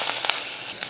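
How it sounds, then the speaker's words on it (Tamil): Mustard seeds, urad dal and dried red chillies sizzle in hot oil for a tempering, giving a steady close hiss with a few sharp crackly pops, short and fairly quiet, with no voices. "எண்ணெய் காஞ்சதுமே கொஞ்சம் கடுகுளுந்து, அடுத்து 2 வரமிளகாய், அடுத்து ரசத்துக்கு தட்டி வச்சுருந்தோம் இல்லையா அதை சேர்த்துடலாம்"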